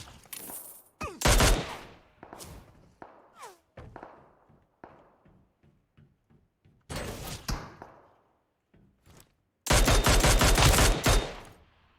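Bursts of automatic gunfire in the PUBG Mobile battle royale game, with loud sustained volleys near the start and end and scattered single shots and thumps between, some far and faint.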